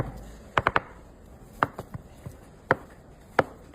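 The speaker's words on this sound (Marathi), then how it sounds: "अशा पद्धतीने चौकोनी पनीरचे क्यूब कट करून घेऊ आपण" A knife cuts a block of paneer into cubes on a board, giving sharp, close chopping knocks: a quick triple burst, then several single and paired strikes at uneven gaps, with no talking.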